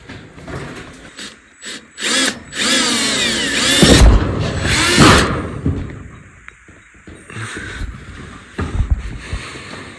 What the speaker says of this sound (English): I do have one thing left to do to this sheet, and that is to drill some holes